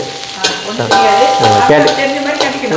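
Garlic and green chili frying in oil give a loud, busy sizzle with stirring clatter. Pitched, voice-like tones run through it.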